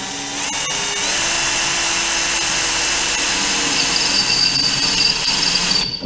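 A battery-powered drill runs in one long continuous whine, close and loud, holding a steady high-pitched tone for several seconds before cutting off at the end.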